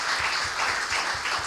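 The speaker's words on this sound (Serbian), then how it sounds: "jedan veliki aplauz za odbornike iz drugih partija" Loud, sustained applause from an audience at a civic awards event, a thick wash of clapping honoring city councillors that carries on evenly with no speech over it.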